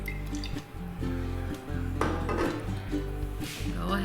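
A cooking pan set down on the stovetop with light metallic clinks and knocks, followed by olive oil poured into it, close and fairly quiet, with faint kitchen handling noises throughout.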